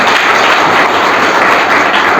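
An audience breaks into steady, loud applause at a motivational talk, a dense wash of many hands clapping continuously without pause and with no voices over it.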